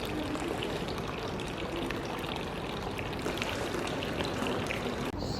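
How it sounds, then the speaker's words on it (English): Hot spring water, about 50 to 60 degrees Celsius, pours steadily from a small public drinking fountain, a continuous close splashing trickle with no pauses. "they've got these like little fountains with the spring water"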